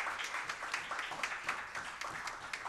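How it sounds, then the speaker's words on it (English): Lively applause from a conference audience, a continuous patter of many hands clapping at a moderate, steady level throughout. "please stand up, and we can give you a round of applause."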